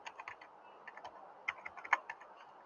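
Rapid keystrokes on a computer keyboard typing a search query, irregular light clicks in quick bursts, close and clear with no talking.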